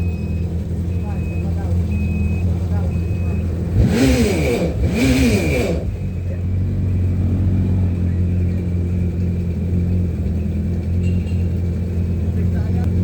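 A jet ski engine runs at a steady low idle rumble, with two brief rising-and-falling revs early on before settling back to a constant drone.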